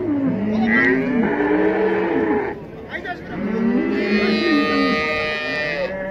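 Cattle at a livestock market low and moo in long drawn calls, several overlapping voices close by with a short pause midway before more mooing resumes.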